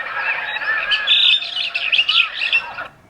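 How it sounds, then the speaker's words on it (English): Morning birds in a jungle chirp and call from a sound-effects library, a dense, bright chorus of overlapping tweets and squawks, moderately loud and close, running steadily for a few seconds before cutting off. "I already know that we actually have some jungle morning sounds here"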